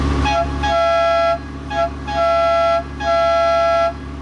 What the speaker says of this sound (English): Ah, the old school, absurd Ferrari horn sound.